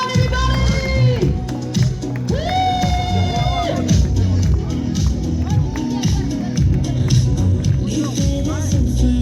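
A wedding crowd cheers, whoops and claps as the couple makes their entry, loud shouts and rising calls over a babble of voices and scattered clapping.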